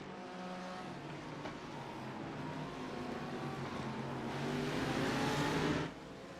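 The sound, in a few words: GT3 race cars passing at Le Mans, racing video game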